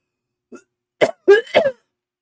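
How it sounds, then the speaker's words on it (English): A short cluster of harsh, close coughs, three or four in a row, loud and dry against silence. "I'm coughing a lot."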